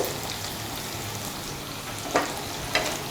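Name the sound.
mixing gram flour into sizzling sambharo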